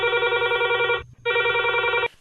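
A telephone rings on a Hindi radio phone-in show in two loud, buzzy electronic trill bursts of about a second each, split by a brief gap, with no talk over them.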